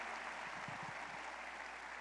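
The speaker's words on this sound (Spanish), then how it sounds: "Damos un aplauso, porque hay poder en el Evangelio" Congregation applauding in a church service, a steady, even wash of clapping throughout, moderately distant, with a few low voiced murmurs partway through.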